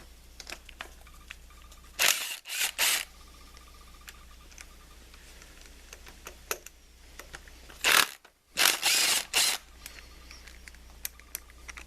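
A ratchet or wrench loosens the 12mm distributor bolts on a Honda D16 engine, giving two separate bursts of close clicking and rattling with quiet pauses between.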